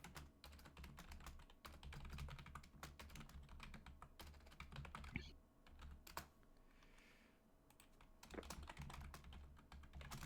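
Close keyboard typing runs as a dense, continuous patter of fast clicks with brief lulls, over a low background hum and faint voices.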